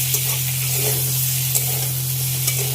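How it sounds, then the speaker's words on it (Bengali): Papaya fries in a pan with black cumin seeds, giving a loud continuous hiss and sizzle over a low steady hum, with a few brief clicks of stirring and no voices. "এখানে কালো জিরা ফোড়ন দিয়ে পেঁপেটা ভেজে নিচ্ছি"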